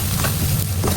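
Semolina roasting in a pan for suji halwa gives a dense, continuous sizzle and scrape, loud and close with no voices.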